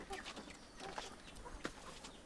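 Chickens on a small backyard poultry farm cluck softly in short, scattered calls over a low background hum.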